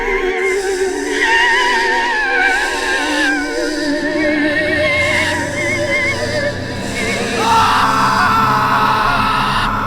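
A loud, drawn-out scream cuts through a horror story's dense, eerie sound effects, rising and wavering over about ten seconds with no narration over it.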